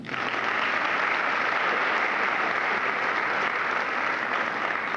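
A live audience claps steadily and loudly for the bass singer of a 1989 barbershop-style group, a dense, even wash of applause that starts abruptly and holds throughout without talk.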